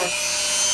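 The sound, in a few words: rotary tool sanding EVA foam helmet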